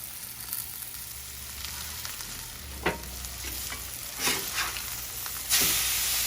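Steaks sizzle on a Blackstone griddle outdoors in the snow, a steady hiss of searing meat with a few sharp spatula scrapes and bursts as they are flipped, no talking.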